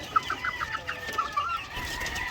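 Chickens and chicks on a farm cluck in a quick run of short calls, with a couple more clucks following over a soft background of farmyard noise.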